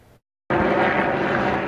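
Police helicopter flying overhead above a mall crime scene: after a brief gap, a loud, steady broadband rotor and engine roar holds constant, close and unbroken, with no talk.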